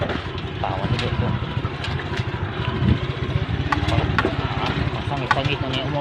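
A motorcycle engine labors and chugs with uneven, pulsing effort while riding a rough, difficult road, loud and close, with voices heard over it.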